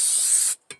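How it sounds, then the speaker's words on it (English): Pure coconut oil sprays from a can onto a casserole dish in a close, loud continuous hiss for about half a second, followed by one short second burst. "We'll spray it with some pure coconut oil."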